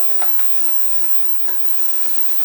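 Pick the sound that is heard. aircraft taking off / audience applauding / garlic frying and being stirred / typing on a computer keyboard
garlic frying and being stirred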